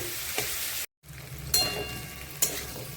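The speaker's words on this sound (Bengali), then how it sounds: "লবণ হলুদ লঙ্কা দিয়ে এখন কলাটা ভালো করে ভেজে নেব।" Green banana and potato sizzle steadily in a pan with salt, turmeric and chili, broken by a moment of silence and a couple of sharper stirring clatters.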